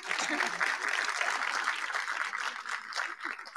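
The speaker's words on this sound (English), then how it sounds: "you all deserve to be applauded" Audience applauding at a university nursing pinning ceremony, a dense steady wash of clapping filling the room from start to finish with faint voices underneath.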